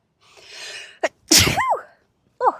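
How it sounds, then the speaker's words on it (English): A person sneezes loudly up close after a short breathy intake, followed by a brief vocal sound. "Oh, I'm going to sneeze."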